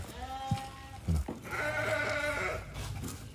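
A Qashqar sheep bleats several times nearby, drawn-out wavering calls at a livestock market, with low background noise and brief human sounds.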